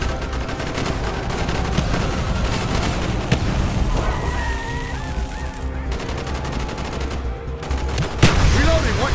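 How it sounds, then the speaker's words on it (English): Street gunfire in the Call of Duty Black Ops video game, dense continuous automatic bursts with booming shots and a heavy low rumble throughout, louder near the end. "Bowman, Carlos, lay down covering fire."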